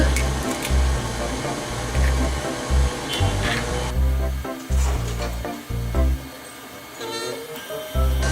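Electric mixer beating lemon drizzle cupcake batter after the last egg goes in, a loud continuous whirring drone with rattly surges as the beaters move through the mix, and a voice talking over it.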